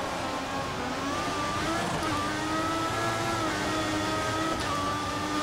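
An F1 car engine screams at full throttle in F1 2014 at the Austrian race, a continuous high-pitched whine with gear-shift steps, loud and sustained, with a voice faintly beneath.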